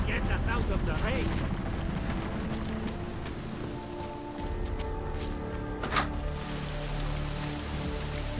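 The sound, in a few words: rain in a video game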